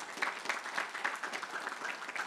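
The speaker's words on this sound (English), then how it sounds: "Give her a round of applause for her." An audience at a knowledge retreat speakers' session claps in a dense, fairly soft round of applause that stays even from start to finish.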